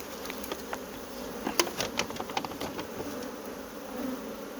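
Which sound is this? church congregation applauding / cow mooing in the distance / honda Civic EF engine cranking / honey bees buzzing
honey bees buzzing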